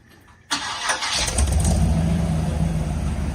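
A 1965 Chevrolet C10 pickup cranks and fires at once, then settles into a loud, steady rumble close by as it pulls away, the low engine drone holding strong to the end.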